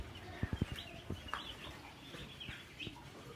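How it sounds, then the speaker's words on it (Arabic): White broiler chicks on their first day make faint cheeping and peeping calls over a steady background hiss, with a few soft knocks near the start and no talking. "بدايه الفراخ اول يوم النهارده معانا"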